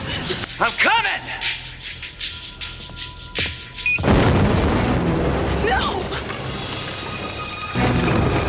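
A flash grenade goes off in a dramatic TV scene: a loud, sudden boom near the middle is followed by a sustained roaring, hissing wash of noise. Quieter scuffs, pops and squeals come before it, and a voice may be heard briefly.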